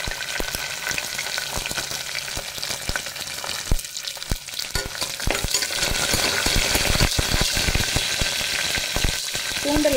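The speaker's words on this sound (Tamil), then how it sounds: "இப்போ ஆயில் ஹீட் ஆயிடுச்சு. கடுகுழந்த பருப்பு, கருவேப்பிலை, வரமிளகாய்," Mustard seeds, dal, curry leaves, dried red chillies and garlic sizzle and crackle loudly in hot oil in a single pot, with steady frying and sharp seed pops throughout and stirring sounds at times.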